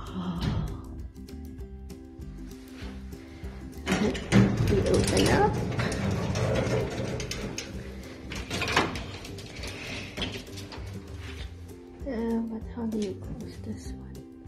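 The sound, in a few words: vintage elevator mechanism running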